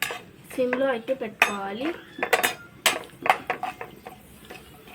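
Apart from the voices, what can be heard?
stirring raw banana fry with crushed garlic in pan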